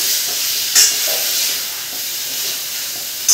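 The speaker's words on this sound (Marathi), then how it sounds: "आता मेथीची भाजी टाकून घेऊ. त्याला थोडी करपून घेऊ." Fenugreek leaves sizzle in a frying pan with a roasted spice paste, giving a steady close hiss that runs throughout, with two brief louder bursts.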